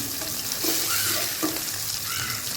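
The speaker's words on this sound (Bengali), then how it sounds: "এই মাছটা চার মিনিট ধরে ভেজে নিচ্ছি" Khoira fish frying in oil in a kadai gives a steady, close, dense sizzle with a few soft stirring knocks, and no voices.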